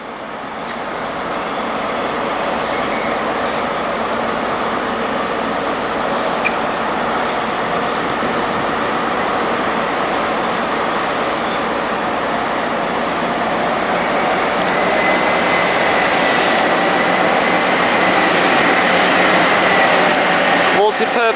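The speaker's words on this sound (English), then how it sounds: "Passing through now is a Network Rail Stoneblower Tampa bound for Bristol" A Network Rail multi-purpose stoneblower track machine passes through Reading station on the Great Western Main Line, a long sustained roar of wheels and engine, loud and close, building slightly toward the end; talk is also present.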